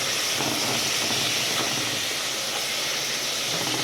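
Ground meat sizzling and frying in a pan for Filipino-style spaghetti sauce, a steady loud broadband hiss of hot oil that runs continuously and close without pause.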